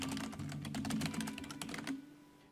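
Quiet, rapid clicking of keys on a computer keyboard as a search keyword is typed, a steady run of taps lasting about two seconds before stopping.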